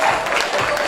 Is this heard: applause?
yes